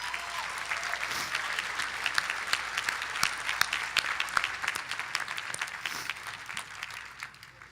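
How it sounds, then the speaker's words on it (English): A commencement ceremony audience applauds, producing sustained, dense, even clapping from many hands in a large hall for about eight seconds, steady throughout and tapering slightly at the end. "Please take a moment to applaud yourselves and those people who surround you with love."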